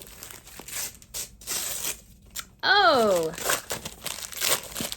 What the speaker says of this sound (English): let us unwrap our April book